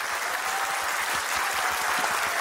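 An audience claps steadily and densely at a welcome and farewell gathering for Korean expatriates. The applause is loud and sustained, filling the room with no pauses.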